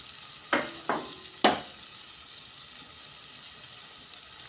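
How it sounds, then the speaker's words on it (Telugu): Washed chicken pieces dropped into hot curry gravy in a pan, three sharp sizzling bursts over a steady frying hiss, close and fairly quiet. "చికెన్ వేసుకుంటున్నాను."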